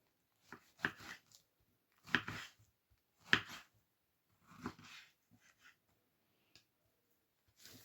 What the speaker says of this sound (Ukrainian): тепер я буду їх нарізати